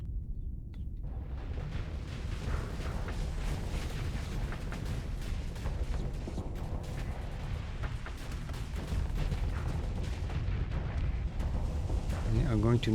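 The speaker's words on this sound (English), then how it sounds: "Where's our reality disruptor? Why is it shooting?" Heavy weapons fire in a Starsector space battle, including a reality disruptor shooting, produces dense booming blasts and rumbling explosions that fill the clip continuously, loud and layered throughout.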